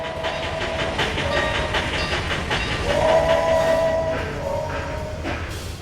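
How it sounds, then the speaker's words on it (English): A freight train rumbles and clatters along the rails in the game The Mojave Line while a whistle sounds in sustained blasts, the rolling wagons steady and close throughout. "Just then, Boris arrived with a freight train."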